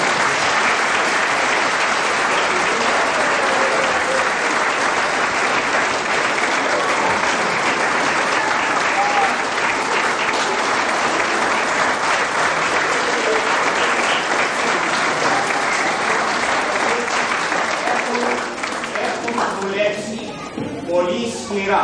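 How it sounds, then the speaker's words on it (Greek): Sustained applause fills a school hall at a Greek school children's performance of a wedding ceremony, steady dense clapping that continues loudly for about twenty seconds before thinning into a few scattered claps. "Ένα χειροκρότημα παρακαλώ."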